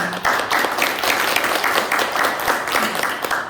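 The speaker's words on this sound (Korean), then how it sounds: "박수로 환영해주세요" Applause from the audience at a Korean poets' association Poetry Day ceremony greets an introduced guest, with brisk, fairly close clapping that pulses unevenly and continues throughout.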